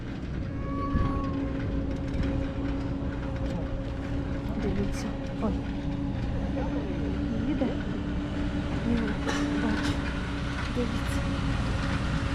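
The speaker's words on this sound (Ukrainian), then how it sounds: "а воно трактор чи снігоубиратель якийсь." A tractor or snowplow clears a mountain road high on Kasprowy Wierch in Poland, giving a steady, droning engine rumble with a constant low hum that holds at an even level throughout.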